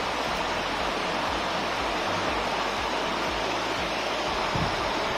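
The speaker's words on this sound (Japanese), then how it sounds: "川の音が。 最高でしょ。" River water rushing close by in a secluded mountain spot, a steady, dense wash of flowing noise that holds even and unbroken throughout with no voices.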